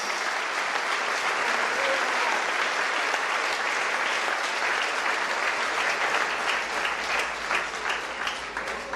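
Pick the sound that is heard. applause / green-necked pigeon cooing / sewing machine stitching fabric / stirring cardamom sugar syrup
applause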